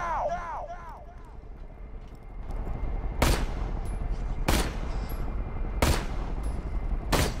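Covering gunfire in the shooter Borderlands The Pre-Sequel cracks in four loud, evenly spaced bursts over a steady background din, with a voice speaking early on.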